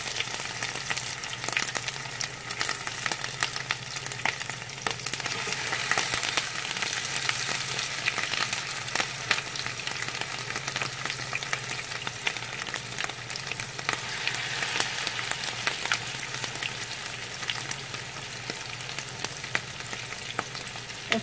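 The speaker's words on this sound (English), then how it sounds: "Oil is nice and hot. I'm going to scoop up the first cake." Steady, close sizzling of shrimp cakes frying in hot oil, with a crackling hiss that holds for the whole stretch and occasional sharper pops. No voices.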